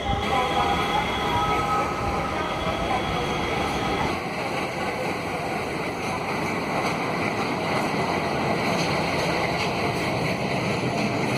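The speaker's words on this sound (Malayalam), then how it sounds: "Train number 19260 Bhavnagar Kochuveli Express will arrive shortly on platform number" The Bhavnagar–Kochuveli Express, hauled by Alco diesel locomotives, rolls into a station platform with a continuous loud rumble of wheels and carriages. A station announcement plays over the noise.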